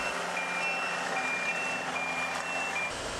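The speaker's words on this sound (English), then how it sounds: "The beeping of machines." Steady high-pitched electronic beeping from construction machinery in Bowling Green, repeating continuously over a dense rumble of engines and heavy equipment.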